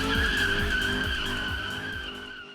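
Drift cars at Sydney Motorsport Park skid with a loud, sustained tyre squeal: a steady high-pitched screech over a throbbing engine, close and continuous, fading slightly at the end. No one speaks.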